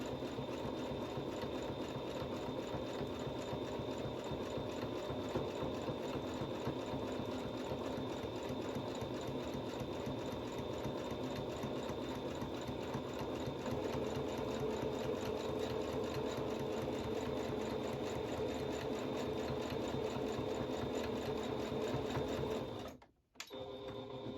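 A sewing machine stitches along the top edge of a fabric face mask, a steady, close, rapid mechanical whir running nonstop for over twenty seconds before stopping abruptly near the end.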